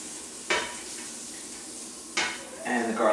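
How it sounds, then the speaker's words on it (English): Onion and garlic sizzling in a pot on the stove, a soft steady frying hiss with sharp clatters of a spoon or utensil against the pot near the start and middle, louder stirring and scraping toward the end. "Now I can hear our onion sizzling."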